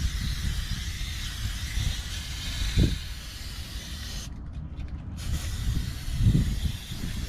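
Hissing spray from an Amsoil Mudslinger aerosol can being applied to the underside of a Bronco, a steady hiss with a short gap partway through and some faint clunks.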